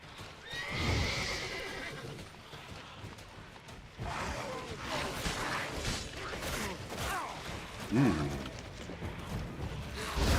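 Roach the horse in The Witcher 3 whinnies loudly and repeatedly while hooves clop steadily underneath, with someone talking over the game sounds.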